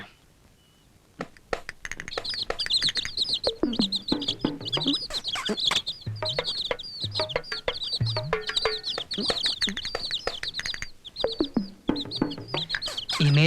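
Chickens cluck and chirp almost nonstop, loud and close, with many overlapping calls in quick irregular bursts.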